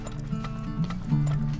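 Horses clip-clopping in the oil-drilling video game Turmoil, a steady run of close hoofbeats with rhythmic clopping and a few louder thuds over a low ambient hum, with no talk.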